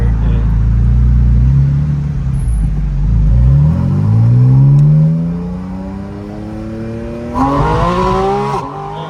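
A Porsche Boxster Spyder RS (982) engine pulls hard from inside the cabin, a loud rising howl that climbs steadily in pitch, briefly drops at a gear change, then starts climbing again.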